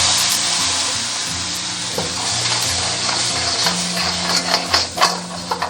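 Red roe crabs fry flesh-side down in hot oil in a wok, giving a close, continuous sizzle with crackles and sharp spitting pops that grow busier toward the end.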